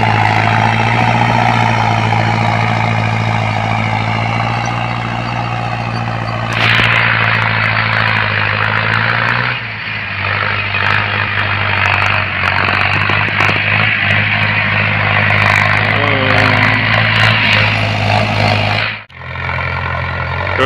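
A farm tractor engine runs in a field during maize sowing, a loud, steady droning rumble that stays close throughout with brief dips in level.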